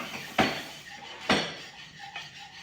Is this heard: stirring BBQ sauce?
yes